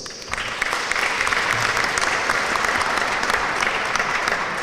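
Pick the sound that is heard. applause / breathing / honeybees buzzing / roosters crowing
applause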